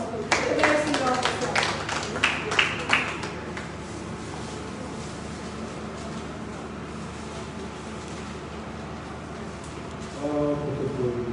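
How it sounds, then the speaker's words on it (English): Scattered clapping at a gathering against human trafficking rises briefly near the start alongside a speaking voice, then thins into a faint, low patter, with talk returning at the close. "A round of applause, please."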